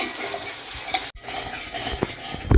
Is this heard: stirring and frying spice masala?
yes